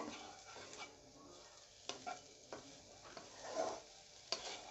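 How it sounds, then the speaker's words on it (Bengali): Egg and shrimp fried rice stirred in a hot pan, soft sizzling under repeated scraping strokes of a spatula, close and fairly quiet. "ডিম আর চিংড়ি মাছ। একটু ভালোভাবে মিশিয়ে নেব"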